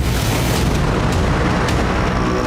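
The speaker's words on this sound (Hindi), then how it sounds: "टैंकर और ड्रोन की टक्कर से जोरदार धमाका हुआ।" A loud, sustained roaring blast from a tanker hit by a drone on the Black Sea rumbles continuously with heavy low-end boom and no pauses, dense and overwhelming from start to finish.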